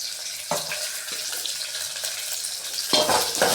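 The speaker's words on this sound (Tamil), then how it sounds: "நல்லா வதக்கிக்கலாம்." Peeled garlic cloves sautéing in hot oil for a Tamil fenugreek curry, giving a steady close sizzle and crackle with a few louder clattering stirs of the pan partway through and near the end.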